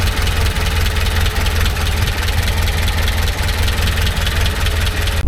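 A Talbot Express van engine idles loudly and steadily up close, a constant low rumble with a busy mechanical clatter throughout.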